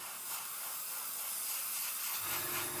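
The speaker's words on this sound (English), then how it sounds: "Spray some more matte on there" A steady, close aerosol hiss as matte varnish is sprayed continuously onto a model for a few seconds, with a slight low rumble near the end.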